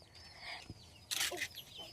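Chickens cluck faintly in a yard, a few short soft calls with one louder burst of clucking partway through.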